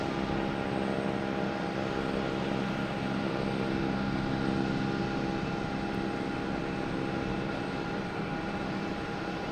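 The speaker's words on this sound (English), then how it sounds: "a Cape Air taking off" A Cape Air plane taking off from Boston Logan toward New Bedford makes a faint, steady engine drone with a sustained tonal whine, distant and unchanging throughout.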